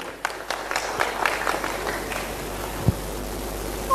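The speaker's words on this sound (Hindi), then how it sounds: "सभी लोग तालियों से उनका स्वागत करें" An audience at a senior citizens' association gathering in Surajpur district gives a scattered round of applause, with individual claps fairly distinct at moderate distance and steady low background noise.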